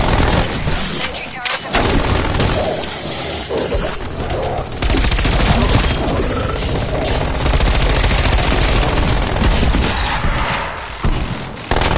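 Sentry turret in the video game Zombees firing steadily for about twelve seconds, a dense, loud rattle of rapid shots with low thuds and brief dropouts near the start and end.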